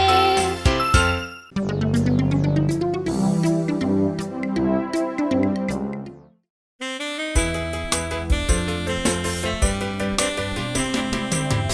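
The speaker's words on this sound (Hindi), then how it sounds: "टिंग टिंग टिंग टिंग टिंग टिंग घंटी बजाते हुए" Bright jingling bells ring in rhythmic bursts within a Hindi Santa Claus nursery rhyme, with a brief gap midway before the tinkling music resumes.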